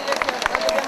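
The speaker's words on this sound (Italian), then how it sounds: "Un bel applauso perché è 68 anni la signora." Brief burst of crowd applause for a 68-year-old lady at the Valbrona trout festival, quick scattered claps with background chatter.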